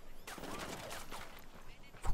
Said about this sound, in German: Wo kommen die Schüsse her?